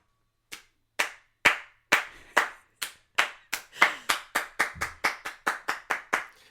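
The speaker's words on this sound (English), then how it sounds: "It gets a slow clap." A single person's slow clap, sharp hand claps starting widely spaced and gradually quickening into a steady faster rhythm, close and dry with no other sound.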